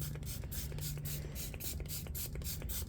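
Spray bottle misting a homemade baking soda and vinegar cleaner onto running shoes, a quick series of sharp, close hissing squirts in a regular rhythm.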